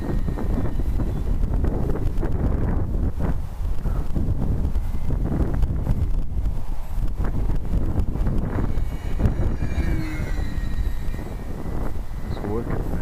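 Strong 25 mph wind buffets the microphone at an RC model airplane flying field in steady, rumbling gusts, with a faint model aircraft engine whine and someone talking underneath.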